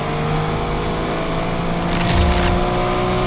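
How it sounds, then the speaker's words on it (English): Car engine revving hard toward redline before a gear shift in a manual transmission, a loud sustained engine roar with a rising strained edge near the end, captured from inside the car without talk. "We're just listening for the engine because it screams at you the loudest right before it's time to shift."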